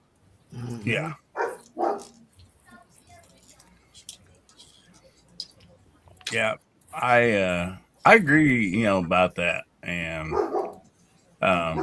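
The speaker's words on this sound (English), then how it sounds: "Sorry for the dogs barking." Dogs bark in several sharp bursts, loud and close, while people talk through the clip at a casual indoor live podcast.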